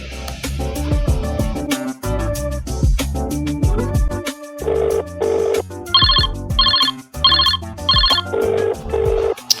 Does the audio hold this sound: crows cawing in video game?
no